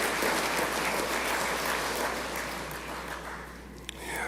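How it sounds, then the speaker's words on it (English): Audience at an evening national honours and investiture ceremony giving a sustained round of applause, a dense, loud wash of many hands clapping that eases slightly toward the end. "Please give Mr. Collins and his staff a round of applause."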